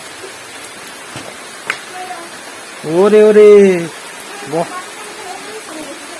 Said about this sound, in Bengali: কি বৃষ্টি এটা!